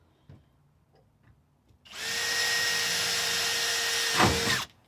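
After a few soft clicks, a power drill with an eighth-inch bit whirs at a steady high pitch for nearly three seconds as it bores a hole in a Ford swing box, then stops.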